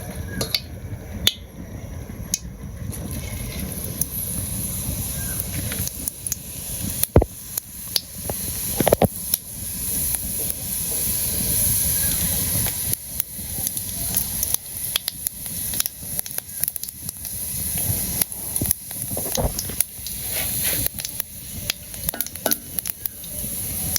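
Cumin seeds sizzling in hot oil for a village style chicken curry, a continuous crackling fry with scattered sharp pops and stirring clatter, close and fairly loud, no voices.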